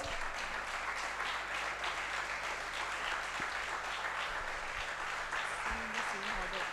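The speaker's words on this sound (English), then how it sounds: "please welcome with a round of applause" Audience applause welcoming a judge at a student investment course finale, a steady dense round of clapping from a crowded room that carries on throughout, with a faint voice underneath.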